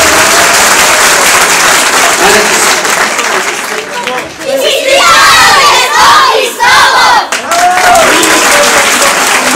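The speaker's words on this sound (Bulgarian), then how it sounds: "Нека принесем аплодисменти за тези малки деца." A crowd at a children's Christmas poem recital in Ihtiman applauds and cheers loudly and steadily, with children's shouts and voices rising through the clapping.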